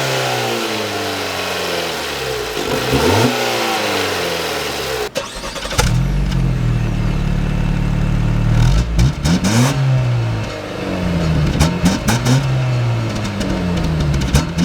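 A Jeep Cherokee 2.4L naturally aspirated inline-four gasoline engine with a nine-speed automatic runs close by, idling then revving repeatedly in rising and falling sweeps, with sharp clicks and knocks breaking in after a few seconds.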